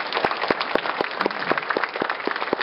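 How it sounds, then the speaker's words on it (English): Audience applause for a panel at a real estate event, a sparse, fairly close clapping with distinct individual claps in a quick, uneven rhythm, no voices over it. "One more round of applause for our panel."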